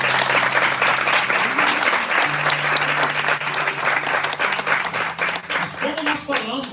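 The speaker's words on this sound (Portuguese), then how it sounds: "Então dá uma forte salva de palmas ao Senhor Jesus." A church congregation breaks into strong, sustained applause, dense clapping filling the room throughout while a voice speaks over it.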